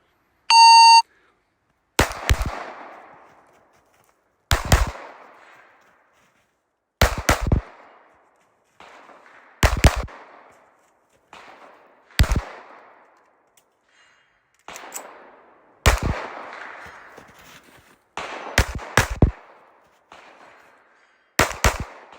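A Gen 6 Glock 17 pistol fires double taps during a timed range drill. A sharp timer beep starts it, followed by about nine loud, evenly spaced pairs of cracking shots, each trailing a short echo.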